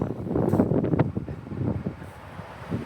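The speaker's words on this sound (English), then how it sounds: "That wind blowing. It just feels like an Arctic blast." Cold wind gusting through a slot canyon in Capitol Reef, heard as loud, buffeting rumble and microphone wind noise that rises and falls in uneven gusts, with no speech.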